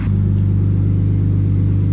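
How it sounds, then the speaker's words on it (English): A boosted Acura TL-S engine idles steadily and smoothly, a loud, close, deep rumble that holds an even pitch throughout. "This thing's idling really, really good."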